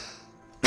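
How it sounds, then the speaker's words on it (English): A single sharp cough lands right into a close microphone after a near-silent pause, loud and abrupt, ending the short moment. "excuse me again, coughing right into that mic"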